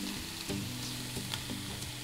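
Fat sizzles in a hot pan before beef heart steaks go in, a steady, soft crackling frying hiss with a few brief stirring clinks, no voices.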